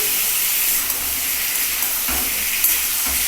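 Potatoes sautéing in a pan for an egg and papad curry, a steady close sizzle and hiss running throughout with faint stirring knocks.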